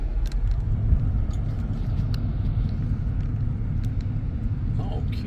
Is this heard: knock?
no